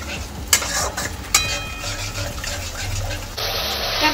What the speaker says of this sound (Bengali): দেখো মশলা কষানোটা আমার খুব সুন্দর মতন হয়ে গেছে, তেল বেরোচ্ছে